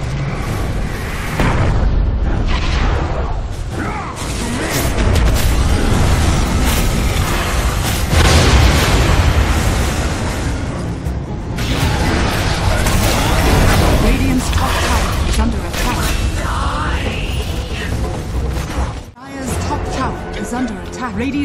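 Explosions and booming impacts from a Dota 2 tower under attack fill a dense, loud mix of continuous battle noise, with a brief dip near the end and a voice speaking over it.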